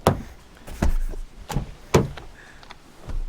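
Car doors of a 2025 Acura ADX A-Spec opening and rear seat levers being pulled, a series of sharp clunks and latch clicks spaced about half a second apart, close and fairly loud, no voices.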